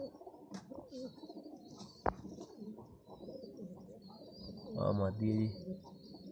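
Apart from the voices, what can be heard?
fancy lucky pigeons cooing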